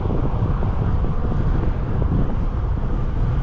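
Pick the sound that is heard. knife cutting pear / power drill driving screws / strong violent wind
strong violent wind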